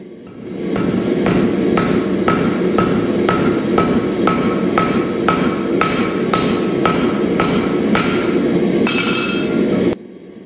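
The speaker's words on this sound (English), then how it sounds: "It's time to pick up a hand hammer and shape it the old-fashioned way." Hand hammer blows shaping a seax blade on an anvil, a steady run of about fourteen evenly spaced ringing strikes over a constant loud roar of the forge, close and clear, ending abruptly.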